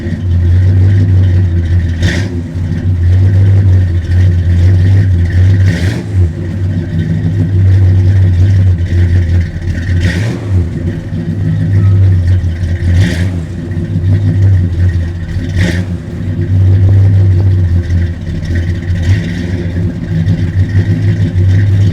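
A 1967 Pontiac GTO V8 running loud and close, with a steady rumbling drone that swells in several repeated revving surges, punctuated by brief sharp clicks.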